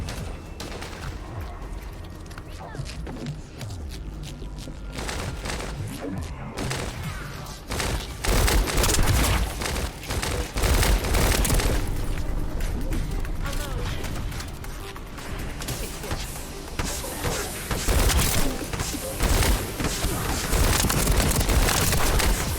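Guns firing in The First Descendant, a looter shooter, with bursts of shots and booming impacts layered densely throughout, growing louder and busier in the second half, with speech mixed in underneath.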